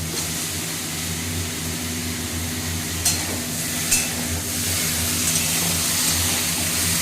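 Potatoes frying in a pan, heard as a steady broadband sizzle under a low continuous hum, with a couple of soft knocks as they are stirred; no one speaks.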